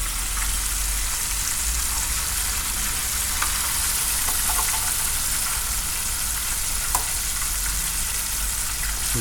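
Live eel stir-frying in a hot wok, Cantonese style, giving a steady, close hiss of sizzling oil that runs unbroken throughout, with a few faint ticks and pops rising above it.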